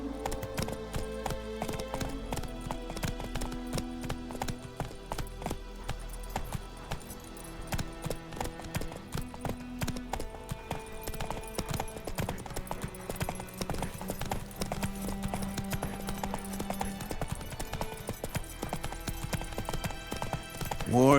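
A horse gallops in The Witcher 3 video game, its hooves pounding in a fast, steady, close clip-clop rhythm that continues throughout.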